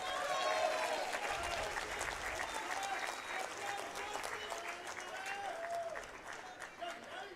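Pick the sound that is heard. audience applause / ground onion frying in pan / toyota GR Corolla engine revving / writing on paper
audience applause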